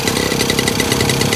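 An old two-stroke motorbike engine runs after a kick start, a loud, close, steady buzzing idle with a rapid even pulse.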